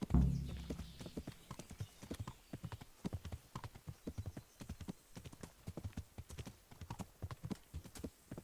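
Horse hooves clip-clop in a steady, brisk rhythm in the video game Kingdom Come: Deliverance, clear and close, continuing throughout with a brief low thump at the start.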